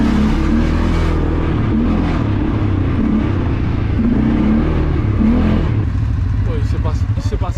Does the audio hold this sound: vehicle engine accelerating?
yes